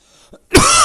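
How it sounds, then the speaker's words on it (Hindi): A single sharp, loud cough bursts out after a brief quiet breath, close to the microphone. "थोड़ी खांसी आ रही है।"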